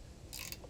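While a boat trailer winch is being installed, a ratcheting wrench gives a brief, faint run of quick mechanical clicks against low background noise.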